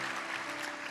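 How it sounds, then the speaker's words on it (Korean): A church congregation claps together in welcome during a Sunday service, a dense, steady wash of applause over one brief second, with no break or voice. "우리 온 마음을 다해서 박수로 환영하겠습니다"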